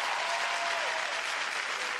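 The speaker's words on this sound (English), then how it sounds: "give Kid Capri a round of applause" Audience applause fills a hip-hop show, a dense, steady wash of clapping from a crowd, loud and continuous with no voices over it.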